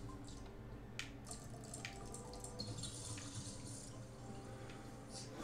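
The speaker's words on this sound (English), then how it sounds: "how do we stop the water flow from being so intense?" Water running steadily in the puzzle game GNOG, a soft continuous trickle with a few brief drip-like splashes, faint and without speech.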